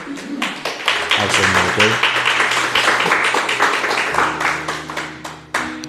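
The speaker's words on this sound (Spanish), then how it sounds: "Vamos a darle un fuerte aplauso" Congregation clapping in a church, a run of rhythmic claps under a voice speaking in Spanish with low organ-like tones sustained underneath.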